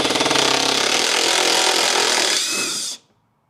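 Power tool whirring steadily for about three seconds while undoing 10mm bolts on the underbody skid plate of a Tesla Model 3 or Model Y, close and loud, then cutting off abruptly.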